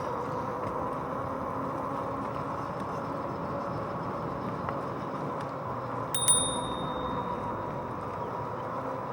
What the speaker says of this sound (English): I always wonder how much advance notice you need to give when you hit the bell